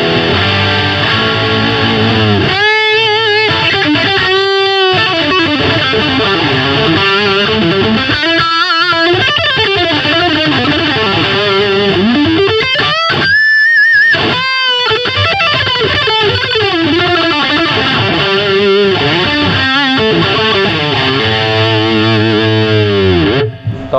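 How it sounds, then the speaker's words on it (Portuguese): Heavily distorted electric guitar played loud and steady for about twenty seconds, with fast riffs, brief gaps and bent sustained notes, solo with no voices. "Mostra um som mais distorcido, faz um."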